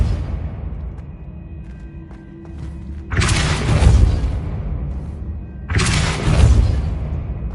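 Two heavy, booming spell blasts of Depulso in Hogwarts Legacy, each a loud thud with a crashing, debris-like tail lasting a couple of seconds, separated by a quieter stretch with faint tones.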